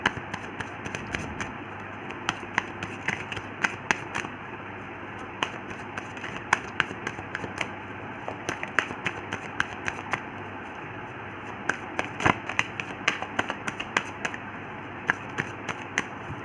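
Tarot cards are shuffled and laid out by hand: a dense run of crisp riffling snaps and light taps, close and steady throughout, with no talking.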